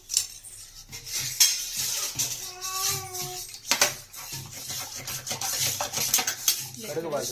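Metal spoon stirring in a cooking pot at home, scraping and clinking near and fairly loud, with people talking in Telugu throughout.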